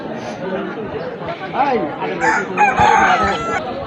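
Hens cluck and a rooster crows amid busy chatter at a village poultry market in Nagarpur, with people talking nearby and the birds loud and close.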